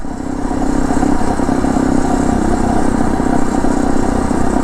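Phatmoto motorized bicycle engine running steadily while riding along back roads, a loud continuous mid-pitched motor drone with clattery texture holding at an even level throughout.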